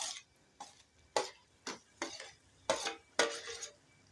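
A spoon stirs mashed roasted eggplant and cooked spices in an oily pan for Gujarati ringan no olo, scraping in about eight evenly spaced strokes with a faint sizzle between them, close and with no talking.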